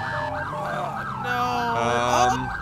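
Several emergency vehicle sirens in a GTA roleplay game overlap, wailing in sweeping cycles that grow louder and more layered as the vehicles speed past.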